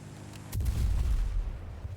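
A C4 charge blowing up under a quad bike in Battlefield 6, a sharp crack followed by a deep, rumbling blast that lingers and fades slowly.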